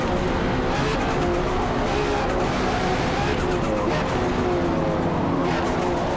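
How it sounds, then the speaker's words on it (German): A Lotus race car at Le Mans in Forza Motorsport roars continuously with its wheels spinning for grip, a loud, steady engine drone under constant tire noise with no breaks. "In Gang 4 drehen zwar noch die Räder durch, aber ab Hälfte Gang 3 ungefähr haben wir Grip, um überhaupt zu beschleunigen."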